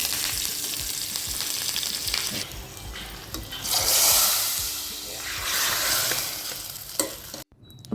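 A sambar tempering of cumin, garlic, two dried red chilies and asafoetida sizzles loudly in hot oil, swelling in waves with stirring, then stopping with a sharp clunk.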